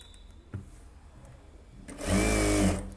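A sewing machine runs briefly, stitching the lining of a blouse: a short, fairly loud burst of rapid mechanical whirring that starts after a quiet pause and a faint click.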